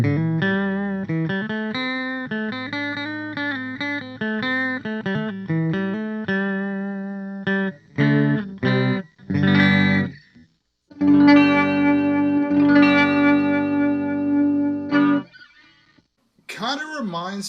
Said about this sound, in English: we're going to start off with the flange